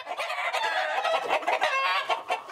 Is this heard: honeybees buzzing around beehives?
no